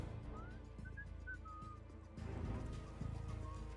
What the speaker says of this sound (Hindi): और ये साला इधर सीटियां मार रहा है।